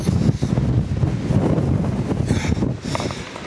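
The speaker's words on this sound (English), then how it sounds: "it's windy out there, y'all" Strong wind buffets the microphone outdoors in Kansas in a steady roaring rush, with gusty swells and no voices.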